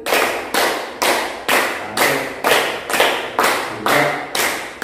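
A class claps together in a counted rhythm, nine sharp, loud, evenly spaced claps in a steady beat with no talking.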